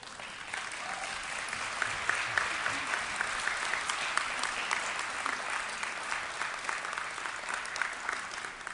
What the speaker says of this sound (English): give them a round of applause for all the support that they've given you to get to this day